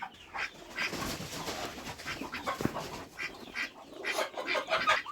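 Several ducks quack repeatedly nearby while eating feed, overlapping nasal calls in an irregular chatter with no talking.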